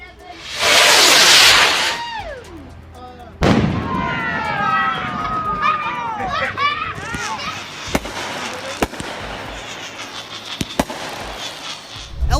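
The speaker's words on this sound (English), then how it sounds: "moments when lightning decides to strike fireworks" Loud fireworks set off by a lightning strike burst and crackle, with whistling streaks and sharp pops ringing out, while voices are heard in the background.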